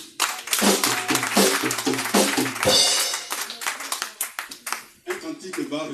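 A church congregation claps to acclaim the Lord, a brisk rhythmic clapping with voices and cheering mixed in, lively and close throughout.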